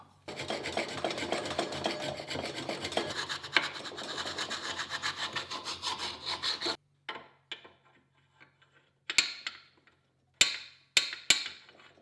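A hand file rasps against the inside of a shaper clapper box, a Gingery shaper part, with a long run of dense, continuous metal filing strokes. After that come sparse scrapes and a few sharp knocks, close up with no talking.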